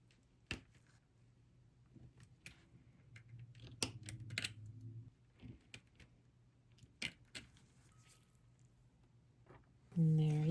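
Cured UV resin spillover being trimmed from a sparkling cabochon, heard as sharp, irregular close-up snips and clicks over a low steady hum, with a louder rustling burst at the end.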